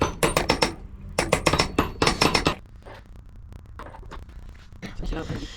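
A sharp-edged hammer taps on a bearing during a Unibor mag drill repair, a fast run of bright metallic strikes in two bursts, close and loud, then quieter scattered taps.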